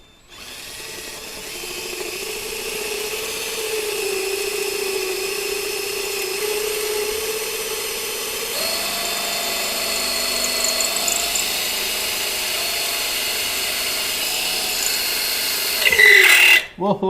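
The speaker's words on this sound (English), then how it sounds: "You want to keep the drill bit straight." A power drill drills out a broken bolt with a sustained whining motor that shifts pitch partway through. A brief louder burst comes near the end.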